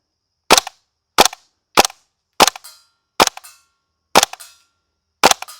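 WE L85 gas blowback airsoft rifle firing seven sharp, evenly spaced shots, each a crisp crack with a short mechanical clack of the bolt cycling, close and loud with no talk.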